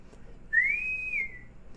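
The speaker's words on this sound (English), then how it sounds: "It's the Star Trek whistle sound." A phone text alert plays the Star Trek bosun's whistle, a single clean rising-and-falling tone lasting about a second, clear over a quiet room.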